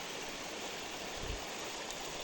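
Small mountain stream flowing steadily close by, a continuous rushing water wash filling the whole moment with a brief low thump midway.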